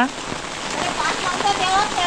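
Heavy monsoon rain pours steadily in a village, a dense, constant hiss of rain on surfaces while people talk over it.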